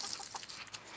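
A young backyard chicken gives a brief run of soft, high clucks close by, with no talking.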